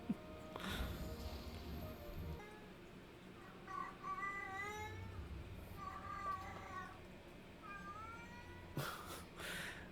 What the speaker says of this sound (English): It's my cat yelling at me in the background.